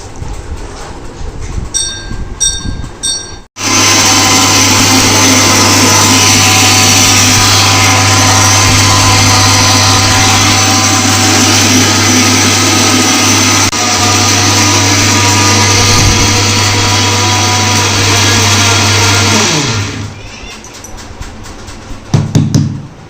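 A kitchen mixer grinder pulverizes roasted masala spices with a loud, continuous whirring drone and a deep motor hum. It runs steadily for about sixteen seconds, with faint clinks before it starts and after it stops.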